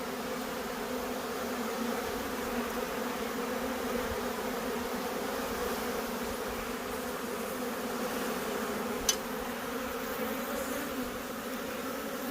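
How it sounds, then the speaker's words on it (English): A swarm of honeybees clinging to a branch as they are scooped into a container, a steady droning hum all the way through, with one sharp tap near the end. "So I'm going to start scooping bees and hopefully I'll find that queen and get her in a cage."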